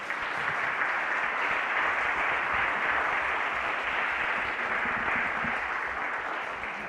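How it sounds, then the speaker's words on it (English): An audience applauds panelists at the close of a community discussion on guns in schools, with a continuous, even wash of clapping from a large room lasting about seven seconds. "can we have a round of applause for all of them?"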